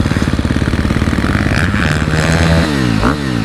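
A Husqvarna FC 250 dirt bike engine runs close by, starting with a steady rapid putter and then revving up and down in rising and falling pitch sweeps, loud and with no talk over it.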